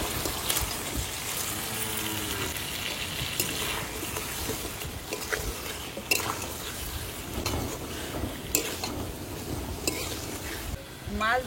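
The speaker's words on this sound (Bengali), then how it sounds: "মাছ দিয়ে একটু নাড়াচাড়া দিয়ে নিয়েছি," Hilsa fish is stirred into spice paste in a pan, bringing busy frying sizzle, repeated scrapes and clanks of utensil on metal, and some watery splashing, with a faint voice now and then.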